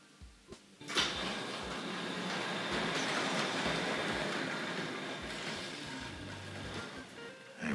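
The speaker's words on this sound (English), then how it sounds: "Let's bring the Dublo train in for good measure." Hornby Dublo model train rolling into a station on a layout, a steady rattling rumble of wheels on track that starts with a bump and continues throughout at close range, with a few clicks near the start.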